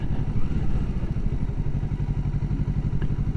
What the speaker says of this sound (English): This is how I'm driving the motorcycle now.